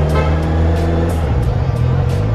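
Evening street traffic in Ayvalık rumbles close and loud as cars roll past in a steady engine wash with low droning hum and brief swells.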